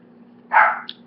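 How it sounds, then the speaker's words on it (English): A single dog bark, short and fairly close, sounding once in an otherwise quiet room with a faint steady hum beneath it. "Sorry, my dog."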